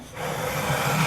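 Fine 600-grit sandpaper rubbed over the frets of a short-scale bass guitar neck, a steady close, dry scratchy friction that continues without a break.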